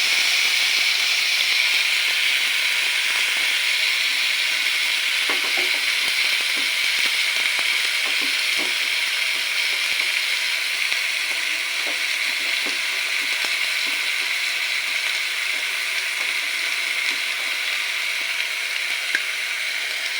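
Koi fish sizzles steadily in hot oil with a ground spice paste of ginger, garlic and cumin, a continuous loud frying hiss with faint scraping as it is stirred.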